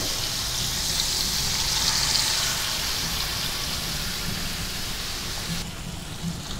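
Pomfret fish frying in oil on a hot griddle pan over a high gas flame, giving a close, continuous hissing sizzle that holds steady throughout, like rain on a surface.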